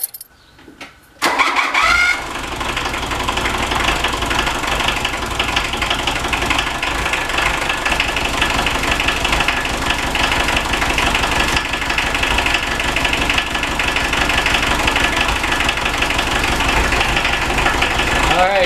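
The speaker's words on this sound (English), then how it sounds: "Now I'm going to start her up and make sure there's nothing going on." A Volkswagen MK1 Rabbit with a 1.5L diesel engine cranks briefly, then catches and runs steadily, with a loud, even, clattering diesel idle that continues unchanged throughout.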